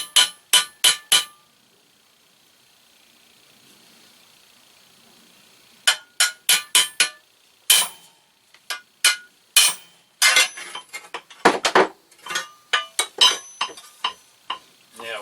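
Sharp metallic taps from a hammer on Maytag gas engine parts, struck in quick bursts of several blows with a pause of near-silence between groups, close and fairly loud.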